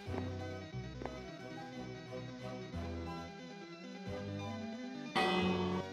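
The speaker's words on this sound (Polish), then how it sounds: "jak przesypią się wszystkie itemy, jest sygnał i dzwoni dzwonek." In Minecraft, a redstone-triggered bell rings as a signal, several clear metallic strikes spaced about a second apart, each ringing out and decaying, with a brighter, louder chime near the end.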